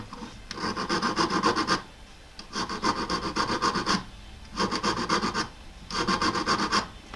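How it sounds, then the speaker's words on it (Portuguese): A metal file rasps across a ring band in four rhythmic bursts of strokes, close and fairly loud, with short pauses between them. No one talks. "no meu caso aqui eu vou gastar mesmo com a lima"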